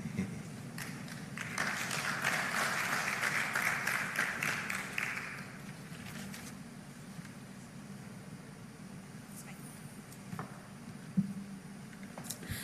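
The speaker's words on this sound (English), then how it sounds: "I think he deserves another round of applause" Applause from a conference audience at the Africa Retail Congress rises for a few seconds, moderately loud over a low hum, then fades into quieter room noise with scattered claps.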